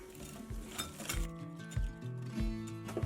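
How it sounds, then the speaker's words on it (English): Milk, flour, vanilla and salt batter being whisked in a bowl, with quick clinking and tapping of the whisk against the dish, fairly quiet and close. "So we're going to put our milk and our flour, our vanilla, and our salt. We're just going to whisk it up."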